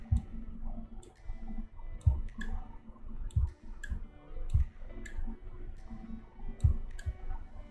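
Computer mouse clicking while working in graphic design software on an album cover, a string of sharp, close clicks arriving in irregular pairs and singles against a low hum, with no talking.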